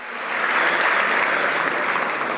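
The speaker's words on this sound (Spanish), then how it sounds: "Démosle un buen aplauso al Señor." Applause from a church congregation swells up quickly and holds as a full, even roar of many clapping hands for a couple of seconds.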